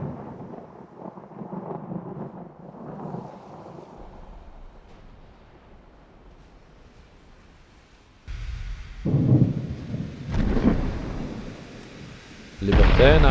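Thunderstorm in a naval video game set in a 1910 battle near Hawaii: a low rumbling roll fades out, then heavy crashes of thunder with rain and wind burst in loudly and swell again at the end.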